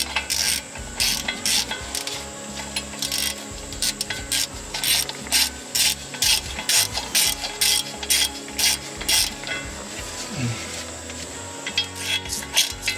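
A hand ratchet with an 11mm socket clicks in quick repeated bursts while removing drive shaft bolts on a Chevy Express van, close and steady, with no talk.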